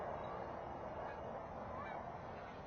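Distant geese honk repeatedly in a faint, dense chorus during an Oregon September goose hunt, with no talking.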